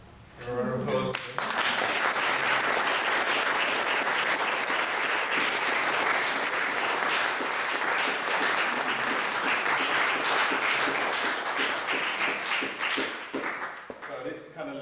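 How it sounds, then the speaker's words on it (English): An audience at a jazz vocal masterclass breaks into sustained applause, dense clapping rising quickly and staying loud for over ten seconds before thinning out near the end. "A round of applause."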